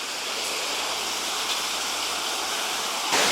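Water rushes steadily through the control gates of the Tees barrage at Stockton-on-Tees, a loud, continuous hiss and roar with no gaps, swelling slightly louder at the very end.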